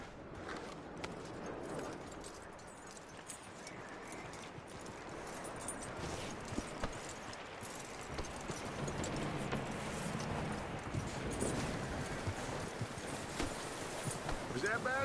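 Horse hooves clip-clop steadily in Red Dead Redemption 2, a walking gait set in a dense ambient mix with speech running over it throughout.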